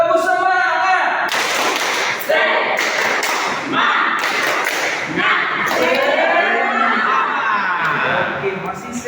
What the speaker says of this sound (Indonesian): ayo kita buat dulu tepuk semangatnya dulu. Tepuk semangat.